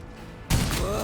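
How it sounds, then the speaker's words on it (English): A single heavy shotgun blast from the Rogue Trader video game bursts in loud and broadband after a half-second of quiet, then rings on in a dense rumbling tail to the end. "I dodge shotgun blast"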